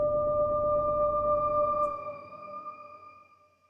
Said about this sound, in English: you can hear in this case the reverb taking a little bit longer to die down